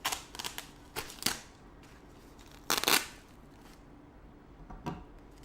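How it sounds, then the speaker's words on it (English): A Leatherman blade slicing open a package, giving several dry, scratchy cutting and tearing bursts at close range, with a louder rasping stretch in the middle and quiet pauses between strokes. "I'm just gonna give this a bit of a cut with my leatherman"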